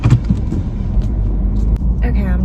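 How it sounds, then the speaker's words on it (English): A car moving a short distance through a parking lot, with a low engine rumble under a person talking close by. "I'm just driving a short distance away"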